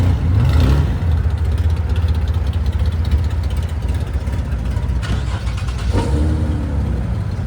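Nissan Z car engine at a morning car meet, a loud nearby rumble that swells into revs at the start and again near the end over a steady idle.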